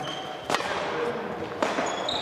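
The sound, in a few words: tennis ball hit with a racket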